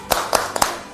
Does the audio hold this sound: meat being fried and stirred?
no